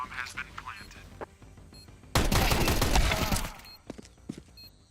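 Burst of pistol gunfire in a Counter-Strike match between Limitless Angels and COVEN, a dense loud volley of shots lasting over a second amid game sounds, with a caster talking around it.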